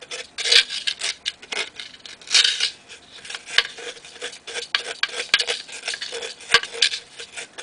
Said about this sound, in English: Use your fingers, a little bit of silicone, a popsicle stick to rub it loose.